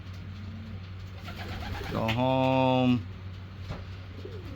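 Racing pigeons back from a 150-mile old-bird race coo in a loft, one strong rolling coo lasting about a second standing out near the middle over a steady low hum, with a brief spoken phrase.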